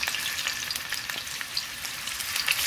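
Cashews frying in hot oil in a pan, a steady close crackling sizzle with small pops throughout, no voices.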